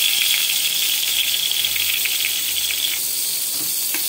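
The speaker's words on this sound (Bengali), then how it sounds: "পটলগুলো এবার ভাজবো।" Pointed gourd (potol) pieces frying in white oil and ghee in a pan: a steady, close sizzling hiss with small crackles and spits, continuous and fairly loud, with no talk.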